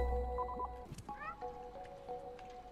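A cat meows in the video game Stray, a couple of close, clear meows over quiet tonal game music, with a voice speaking briefly.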